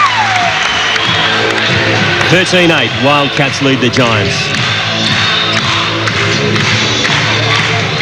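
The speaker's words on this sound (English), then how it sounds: "It's not a bad crowd, but they're certainly making plenty of noise" Crowd noise at a 1993 NBL quarter-final basketball game between the Perth Wildcats and North Melbourne Giants, a steady roar of cheering under close commentary, with occasional ball bounces and thuds.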